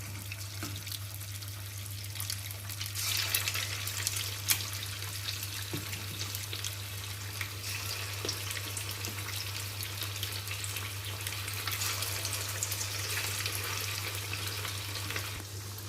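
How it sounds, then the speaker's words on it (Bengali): Chicken for chili chicken frying in plenty of hot oil over a medium gas flame: a steady, close crackling sizzle over a constant low hum, with no talk. "আমি কিছুটা চিকেন ছেড়ে দিয়েছি মিডিয়াম গ্যাসে। এখন আমি চিকেনগুলোকে ভালো করে ভেজে নেব।"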